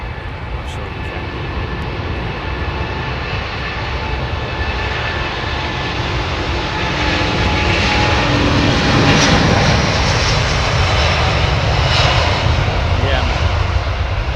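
An aircraft with Rolls-Royce Trent 7000 engines roars in a loud, continuous broadband rumble that swells slightly over time, with people talking faintly underneath.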